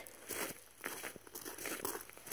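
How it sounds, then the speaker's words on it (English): Boots crunching on rocks during an outdoor walk, a steady run of gritty footstep crunches at close range with no talk over them. "I love the sound of boots crunching on rocks"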